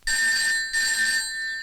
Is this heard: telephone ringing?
yes